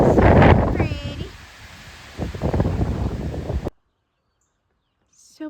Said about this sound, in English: Windy today, but this is the view from Thunder Hill Overlook.